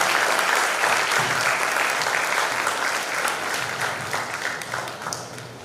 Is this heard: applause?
yes